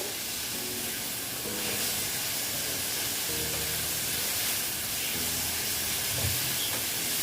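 Jackfruit frying with tomato on a stove: a steady, close hiss of steam and sizzle holds at an even level throughout, with faint clinks underneath and no talk.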